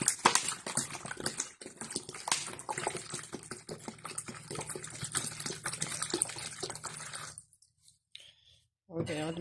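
About one and a half litres of water is poured from a jug for a grape pickle brine, a steady splashing stream for several seconds that stops abruptly, followed by a brief clatter.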